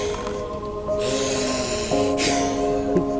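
Forceful bhastrika yoga breaths are pushed through the nose as loud rhythmic snorting and hissing bursts at close range, with a faint tonal hum underneath.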